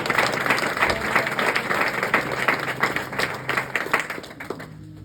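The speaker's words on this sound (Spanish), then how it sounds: "Denle un aplauso a Dios" A church congregation claps together during a sermon, a close, busy patter of many hands with a rhythmic, steady pulse that thins out toward the end.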